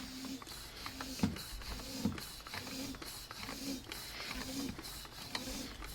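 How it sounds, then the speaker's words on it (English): Bicycle pump pushing air into a WaterPORT pressurized water tank, a steady run of about six rhythmic squeaky strokes with faint hissing, close and moderately loud. "I got my bicycle pump here, and I can give it some pumps of air."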